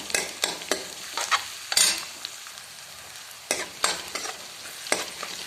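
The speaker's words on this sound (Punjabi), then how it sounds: "ਹੁਣ ਇਸ ਵਿੱਚ ਪਾ ਦੇਵਾਂਗੇ ਜੀ ਆਪਾਂ ਕੱਦੂਕਸ ਕੀਤਾ ਹੋਇਆ ਅਦਰਕ" Grated ginger fries in a pan for a moong dal dish, with a constant light sizzle punctuated by sharp, repeated scrapes and knocks of a spoon stirring it, and no voices.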